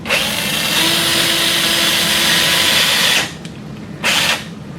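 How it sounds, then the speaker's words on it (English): A cannulated power drill drives a 1.5 millimeter guide pin into the capitate of a sawbones wrist model, giving a loud steady whine for about three seconds that then stops, followed by a second short burst. "we'll be using a cannulated power drill"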